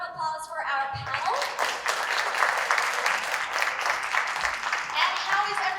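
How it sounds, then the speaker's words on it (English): Audience at a health conference in Dubai applauds a panel, dense clapping building after a short voice at the start and continuing steadily, with some speech mixed in. "A round of applause for our panel."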